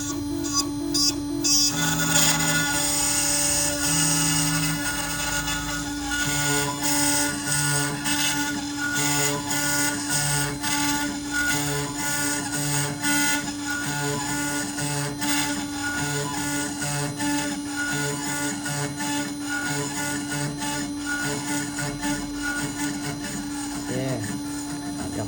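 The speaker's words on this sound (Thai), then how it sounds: "ปล่อยมันเจียไปแล้วเนาะ" A CNC machine grinds on its own with a steady tonal whine, overlaid by repeated rhythmic mechanical clatter and rattling that continues loudly for the full length, with a voice briefly present.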